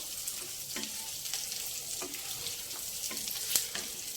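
Onions and curry leaves gently sautéing in a pan for vegetable upma, a soft, steady sizzle with spatula taps and scrapes recurring every second or so, up close.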